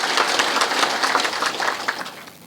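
Audience applause at a public address on Kenyan farm earnings, steady dense clapping from a crowd that holds level and then fades slightly toward the end, with no voices over it.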